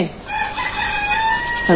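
A rooster crows nearby in a village in the morning, one long rising-then-falling cock-a-doodle-doo that fills the moment clearly.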